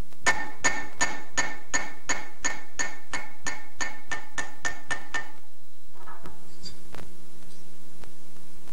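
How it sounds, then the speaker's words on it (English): Rapid, evenly spaced metallic strikes of a planishing hammer on silver in a silversmith shop ring out about fifteen times, bright and close, then stop, leaving a few quieter taps and handling sounds. "I'll use what's called a planishing hammer."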